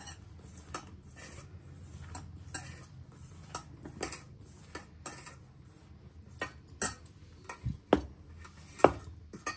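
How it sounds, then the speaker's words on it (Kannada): Mirchi bajji batter with salt is mixed by hand in a bowl: irregular clinks and taps against the bowl over a soft wet churning, fairly close and moderately loud. "ನೋಡಿ, ಎಲ್ಲ ಹಾಕಿ ಕಲಿಸ್ತಾ ಇದ್ದೀನಿ"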